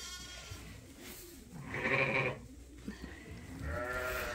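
Young lambs on a sheep farm bleat: a couple of wavering, nasal calls, one louder and near in the middle and another at the end, with soft barn noise between.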